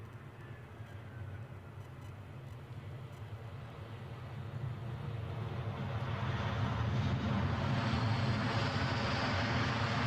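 Inbound aircraft from Bristol landing at Edinburgh airport, a low jet rumble and whine heard from a distance and growing steadily louder over about ten seconds.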